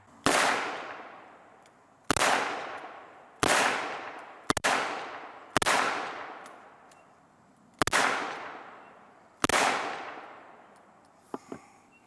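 Seven loud, sharp gunshots from a Smith and Wesson 327 Performance Center TRR8 .357 revolver, fired at an irregular, unhurried pace with ringing decays between shots, followed by a couple of faint clicks at the end.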